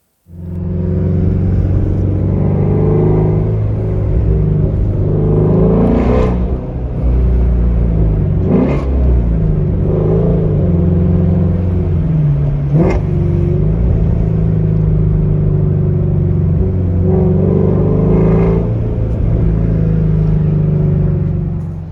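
A 2020 Ford Mustang GT350 with 6,000 miles on it drives with a loud, steady engine drone, and several short rev bursts rise above it. No one speaks.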